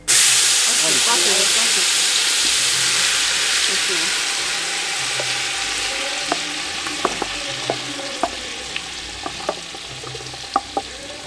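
Mole negro paste, ground on a metate, hits a hot pot in Oaxaca with a loud burst of frying. A steady sizzling hiss follows, broken by scattered pops and spoon scrapes.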